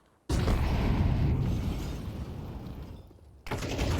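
HE grenade exploding in a video game, a sudden loud close boom that rolls into a long rumbling roar and fades over about three seconds, followed by another burst of noise.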